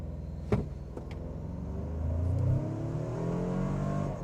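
A 2025 Toyota 4Runner Trailhunter SUV engine revs up from idle during a brake-torque launch on level ground after a sharp knock, rising steadily in pitch and holding a loud, strained drone to the end.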